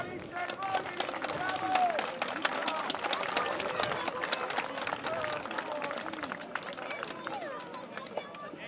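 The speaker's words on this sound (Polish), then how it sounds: "Brawa!" An audience at a combat tournament applauds in a dense, steady burst of clapping that goes on for several seconds, with crowd murmur and voices mixed in underneath.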